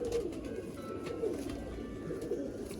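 Teddy pigeons coo softly and continuously, a faint low burbling murmur from a pigeon loft with no talk.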